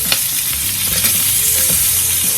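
Sausage frying in a single pan alongside vegetables for a southwest rice bowl, a steady dense sizzle with some stirring scrapes throughout, close and fairly loud with no talking.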